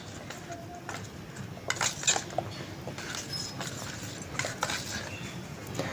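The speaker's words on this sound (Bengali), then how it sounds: "তো এখন জল দিয়ে ভালো করে গুলে নিচ্ছি মশলাটা" Salt, turmeric and spices are mixed with water in a bowl, a soft continuous scraping and stirring with light metallic clinks of a spoon against the dish, fairly quiet and close.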